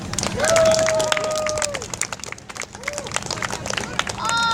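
An audience at a fringe festival show: crowd noise with scattered clapping builds under a busy, bright mix of tones and whistle-like sweeps, loud throughout.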